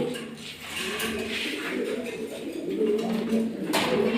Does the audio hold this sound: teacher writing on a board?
no